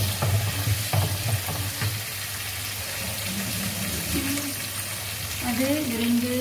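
Dried red chillies dropped into hot oil give a steady, close sizzle and frying hiss, with a voice talking over it.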